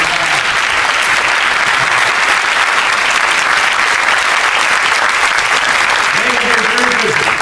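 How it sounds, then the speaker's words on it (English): A large audience applauds the Restoration Rights staff at a speech by a governor on restoring voting rights. The clapping is loud, dense and continuous, with a few voices calling out near the end. "if we can have our Restoration Rights staff stand up and give them a great round of applause"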